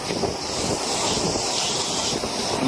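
Sea waves and strong wind at the shore during Typhoon Kabayan, a dense continuous roar of surf with gusting wind buffeting the microphone throughout, no voices.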